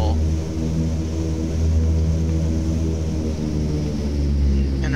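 Grumman F7F Tigercat piston engines in a flight simulator game, a loud steady propeller drone with a strong low harmonic hum, close and continuous throughout.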